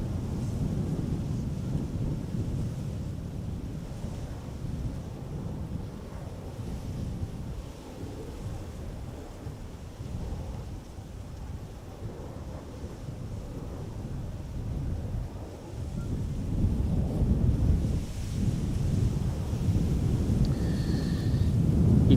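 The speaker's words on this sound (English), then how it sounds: "Embraer 190 arriving from Gdansk, KLM flight" A KLM Embraer 190 jet lands at Amsterdam Schiphol airport, a deep low rumbling roar mixed with wind buffeting that dips in the middle and then swells louder toward the end.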